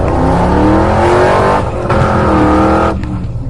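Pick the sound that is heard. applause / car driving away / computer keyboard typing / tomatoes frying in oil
car driving away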